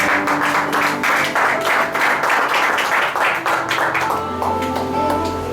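A church congregation at a youth congress claps in a loud, rhythmic, sustained pattern, with sustained tones, probably music, underneath that fade toward the end.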